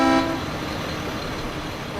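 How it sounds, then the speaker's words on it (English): A truck in the war game Foxhole gives a single short horn toot at the start. The honk quickly fades into a steady engine rumble. "Always honk to your fellow Logi member."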